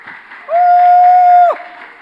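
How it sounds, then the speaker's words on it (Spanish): Congregation applause at a church sermon, a steady wash of clapping heard throughout, with a loud sustained whistle-like tone rising over it for about a second in the middle. "Dale un aplauso al Señor."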